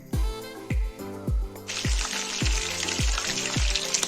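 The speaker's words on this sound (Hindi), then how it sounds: "अब यहाँ पे चिकन होने लगा है फ्राई, अच्छे से हुआ फ्राई" Chicken deep-fries in plenty of oil in a non-stick kadai. Rhythmic thumps and scrapes come roughly every half second, then a broad, bright sizzle swells and stays loud and close.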